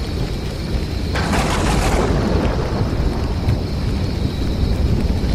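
A thunderstorm with heavy rain hisses steadily while a thunderclap cracks loudly and rolls away, close and full, with no voices.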